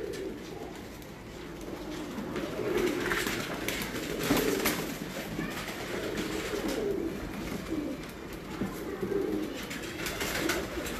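Flying-breed pigeons from a Sialkot loft coo in low, repeated throaty rolls against steady outdoor ambience, with several birds calling over one another at moderate distance and no talking.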